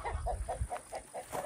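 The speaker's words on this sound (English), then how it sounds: "Move away from the chickens." Chickens in a large rural garden clucking softly at close range, a quick, even series of short low clucks lasting a moment, with no talking.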